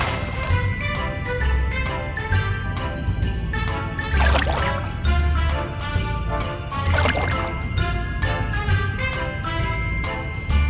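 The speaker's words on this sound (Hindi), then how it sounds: "कौवा बाजू में पड़े कंकर उठाता है और उस मटके के अंदर डालने लगता है।" In a cartoon, a crow drops pebbles into a clay water pot, producing two distinct splashing plops a few seconds apart over steady background music.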